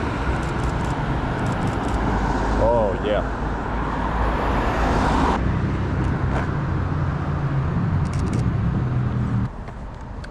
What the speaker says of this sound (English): we have a car coming in